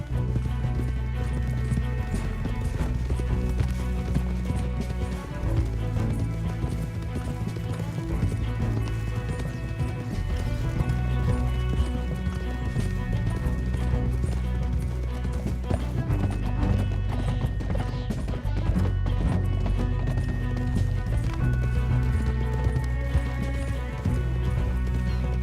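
Horses gallop through the Red Dead Redemption 2 video game, a dense continuous drum of hoofbeats under game music and rumble, with occasional neighs across the whole stretch.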